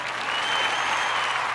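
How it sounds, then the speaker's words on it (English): Steady applause from an audience at the close of a debate event, dense and continuous clapping throughout without pause. "Please give them an applause."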